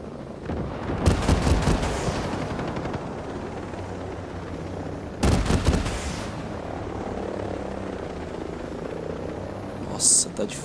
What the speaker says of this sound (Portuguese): Agora eu tenho que derrubar esse helicóptero aqui, senão ele vai acabar me derrubando.